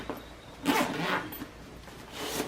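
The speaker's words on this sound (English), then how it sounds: "I just open up this area here and unzip this." Close zipper being opened on the carrying case of a VIAIR 400P portable air compressor, with a few quick rasping pulls of the zip and quiet handling sounds between them.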